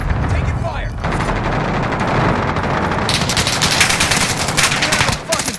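Automatic gunfire in the video game Call of Duty: Modern Warfare: loud, rapid machine-gun bursts rattle almost continuously, growing sharper in the second half.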